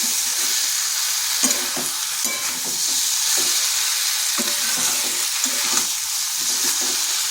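Raw jackfruit curry sizzles in a pan with steady hiss and repeated spoon scrapes as it is stirred, close and continuous with no talking.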